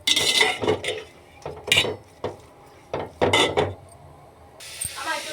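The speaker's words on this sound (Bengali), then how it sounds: "আমার এটা নাড়াচাড়া করবো একটু, যাতে না এটা তলাটা ধরে যায়" Food stirred in a pot to keep the bottom from catching, giving a string of sharp, close metallic scrapes and knocks in irregular bursts with quiet gaps between them.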